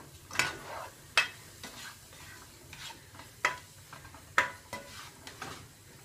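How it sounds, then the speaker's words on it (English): Onions and garlic sizzle gently in a pan while a utensil stirs them, with scattered soft scrapes and clinks at irregular intervals; quiet and close, no talking. "I'm going to go ahead and mix my onions and garlic"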